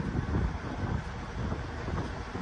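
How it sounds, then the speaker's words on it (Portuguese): Strong wind buffets the microphone beside a truck at a fuel stop, a steady roaring rumble with gusty swells and no speech. "Muito vento aqui, ó."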